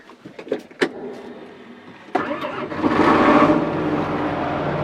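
A diesel tractor engine cranks and starts on a cotton farm, a few knocks and clatters followed by a sudden loud catch into a steady, rumbling idle close by.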